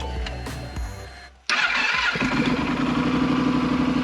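A motorcycle ridden across high Andean desert near the Salinas Grandes, still caked with salt, cold-starts after a night near freezing: a quiet lead-in, then a sudden loud catch that settles into a steady, close idle.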